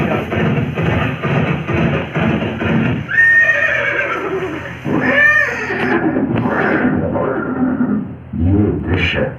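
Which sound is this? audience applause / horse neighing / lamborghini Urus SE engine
horse neighing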